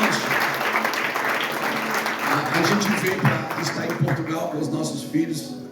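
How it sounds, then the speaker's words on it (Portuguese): A church congregation applauding together, a loud and steady wash of clapping that fills the room for several seconds and begins to thin toward the end, with scattered voices mixed in. "Aplauda o Senhor por essa palavra."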